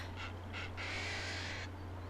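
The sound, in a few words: bird call in Nancy Drew video game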